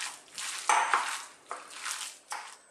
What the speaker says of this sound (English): I'm gonna give this a little mix for a couple more minutes.